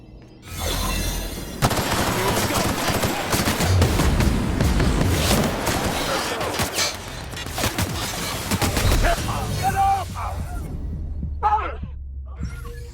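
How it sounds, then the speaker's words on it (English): Gunfire in the Outer Worlds video game, with bursts of rapid shots and booming impacts packed densely together over several seconds, loud and close, before fading to a few scattered sounds. "We have a lot of shooting to do"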